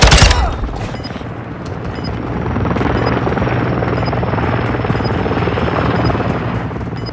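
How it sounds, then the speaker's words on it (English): Military helicopter circling overhead in the Call of Duty: Modern Warfare II game, a steady loud rotor drone that persists throughout, with faint scattered gunfire and small bursts in the background. "Overwatch helo ready for tasking"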